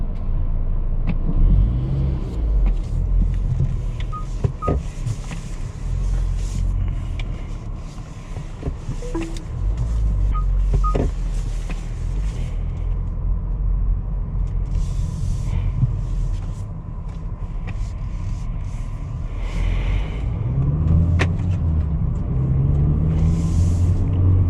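A 2023 Changan UNI-V with a 1.5-liter turbo engine and 7-speed dual-clutch transmission drives along, giving a continuous low rumble of engine and road noise mixed with wind, with no voices.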